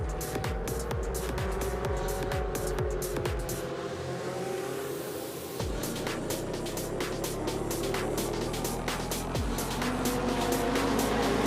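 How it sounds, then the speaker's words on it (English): Ferrari Challenge Europe Coppa Shell race cars accelerate from the start at Valencia, a dense roar of multiple engines rising and shifting as the pack pulls away, loud and sustained. "The cars accelerate and we go racing."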